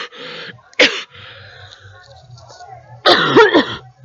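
A sneeze from an ill person, sharp and loud, followed moments later by a burst of coughing or throat clearing, with a low steady hum running underneath between the bursts.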